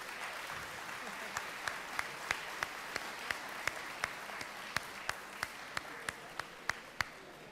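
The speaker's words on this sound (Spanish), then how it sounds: "les solicito un fuerte aplauso para nuestro siguiente" Audience applause at a talk on pastoral accompaniment welcomes the next presenter, a steady moderately distant wash of clapping with scattered sharper individual claps standing out throughout.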